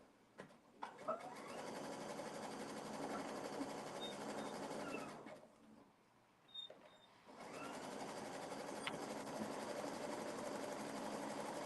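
A sewing machine zigzag-stitches a fabric hem in two long steady runs of rapid mechanical chatter, with a short pause between them.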